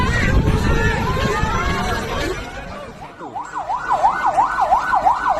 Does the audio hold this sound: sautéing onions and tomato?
no